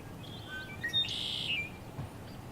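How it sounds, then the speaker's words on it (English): Birds sing in a lush forest: a few clear chirps and short whistled calls, close and bright, over a soft steady background hush. "You will hear the lovely birds singing"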